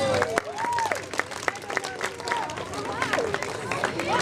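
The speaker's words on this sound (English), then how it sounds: "Let's give the whales a round of applause." Audience at a beluga whale show in the Vancouver Aquarium claps and cheers in a steady wash, with whale whistles and clicks rising over the crowd noise and a nearby voice.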